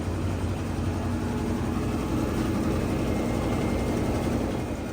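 The drum of an LG all-in-one washer dryer with a drain and spin fault spins hard, giving a dense, steady mechanical roar with a low rumble, loud and close, unchanging for several seconds with no talk.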